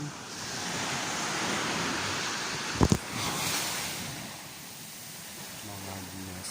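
Rough surf at Timaan Beach on Baloy Long Beach washes in as a steady, broad roar close by, with wind buffeting the microphone and a brief sharp knock midway.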